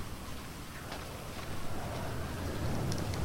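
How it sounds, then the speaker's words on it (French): Steady rain hiss from the GTA 5 video game on PS4 fills the scene during a stormy in-game night, a soft continuous wash with no distinct thunder clap and no talking. "les effets de la pluie sur GTA 5 PS4. On voit l'orage et tout dans le ciel."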